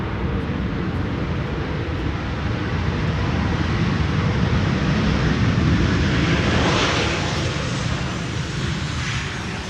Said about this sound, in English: that was the 737 using the reversers